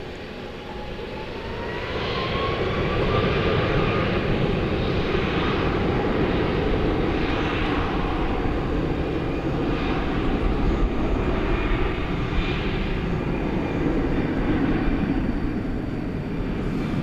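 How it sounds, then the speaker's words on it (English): An American Airlines heavy jet takes off from runway 18 Left at DFW Airport at night, its engine roar swelling in over two seconds and then holding as a loud, steady, broadband rumble with a hissing whine on top. "Clear for takeoff, 18 left to American 78 Heavy"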